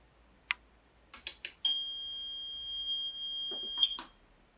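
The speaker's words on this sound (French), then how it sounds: "la centrale va alors reprendre contact avec le module d'étage et lancer l'alarme sur l'ensemble de l'installation" A few sharp clicks give way to a steady high-pitched electronic alarm tone from a residential smoke control system panel that holds for about two seconds, then more clicks follow.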